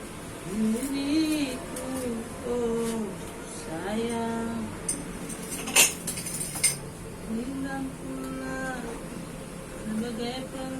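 Spoons and cutlery clink and rattle during washing, with scattered sharp metallic taps and one louder clatter, heard under a man singing.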